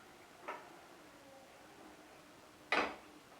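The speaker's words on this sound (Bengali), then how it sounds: "আঁচটা আমি এবার অফ করে দিচ্ছি।" A gas stove knob is turned off after cooking doi chicken: two quiet, sharp clicks about two seconds apart, the second louder, over a faint background hush.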